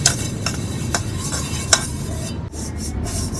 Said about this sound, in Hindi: पहले तो इस तरह नीचे ऑयल लगा लेना है, ऐसे सारे बर्तन को ना अंदर से ऑयल लगा लेना है।